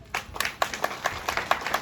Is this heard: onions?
no